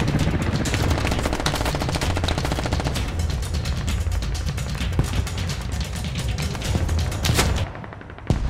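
Sustained automatic gunfire in the military shooter Squad, loud rapid bursts of rifle and machine-gun fire nearly continuous throughout, easing off only in the final second.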